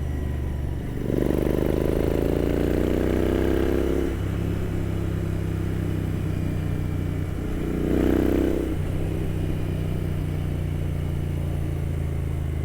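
Royal Enfield Continental GT motorcycle riding on a mountain pass, its engine droning loud and close with two rising revs as the rider accelerates through the gears, steady road and wind rumble between.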